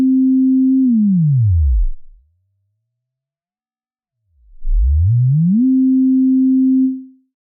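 A steady synthesizer tone played through a frequency shifter module slides down in pitch and fades out, then after a silent gap glides back up and holds before cutting off, clean and loud.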